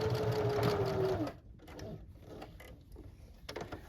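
A sewing machine runs a short back-stitch at the end of a pillowcase seam, a steady mechanical whir for about a second before it stops, followed by quieter handling sounds.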